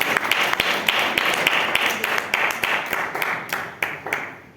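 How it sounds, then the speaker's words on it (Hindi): An audience at a poetry recital applauds loudly, a dense roar of clapping punctuated by sharp nearby claps, fading slightly at the end. "जोरदार तालियां।"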